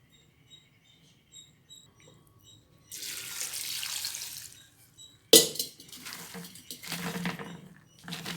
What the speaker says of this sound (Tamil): இதில் தண்ணி ஊற்றுறேன் இப்போ